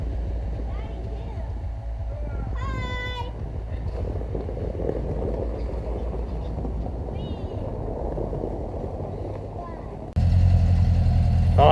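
A homemade side-by-side UTV's engine idles outdoors with a steady low throb and rumble. It continues evenly and then jumps noticeably louder near the end as the revs rise.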